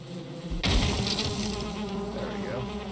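A swarm of bees in the video game Valheim bursts in suddenly as a loud, dense, close buzzing drone that continues without a break, with no speech.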